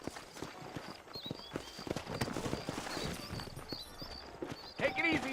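Horse hooves clip-clop steadily in the Red Dead Redemption video game on Xbox, a dense clatter of walking horses under game dialogue and ambient town noise, with a whinny-like cry near the end.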